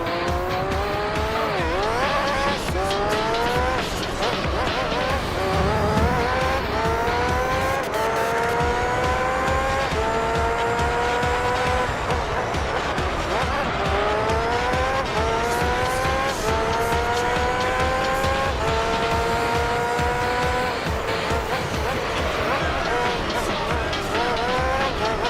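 A race car in the video game Gran Turismo 3 revs hard through repeated upshifts, its engine note climbing again and again while tires squeal through corners, loud and continuous for the whole stretch.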